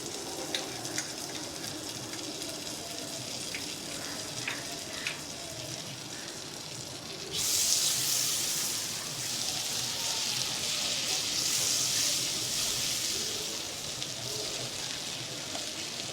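Butter sizzling in a pan while cooking butter paneer, a soft background crackle that jumps to a louder, brighter hiss and sputter partway through, then continues steadily.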